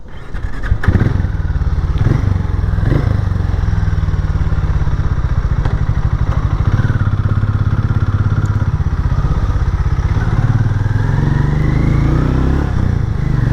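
A Hero Maverick 440 motorcycle engine thrums continuously at close range while riding, with a few thumps and rattles early on and steady road noise throughout.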